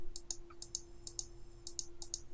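Typing on a computer keyboard during a screen share: light, close key clicks in quick pairs and small clusters over a steady low electrical hum.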